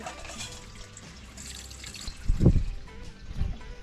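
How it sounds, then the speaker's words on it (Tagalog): Water pours into a bowl of freshly picked mulberries in a short gush, followed by a smaller splash, over quiet background noise. "Lagay lang po tayo ng tubig."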